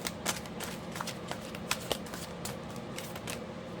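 Tarot cards being shuffled by hand, a quiet run of papery riffles and soft taps in an uneven rhythm, close and fairly faint, with no talk.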